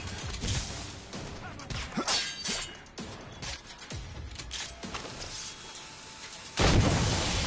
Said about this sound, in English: Oh boy, that was a pathetic explosion.